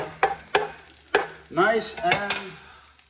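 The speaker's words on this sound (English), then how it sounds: "I just want to brown up a red onion" Red onion cooks in a frying pan with a few sharp utensil clinks and scrapes against the pan, then a brief stirring, sizzling passage; the sounds are close and intermittent.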